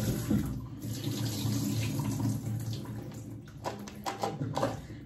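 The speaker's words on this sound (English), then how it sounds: "So you don't have to follow me and wash your raisin." Raisins being washed under a running kitchen tap, with a steady stream of water splashing into the sink throughout, loud and close, with brief rinsing and handling noises near the end.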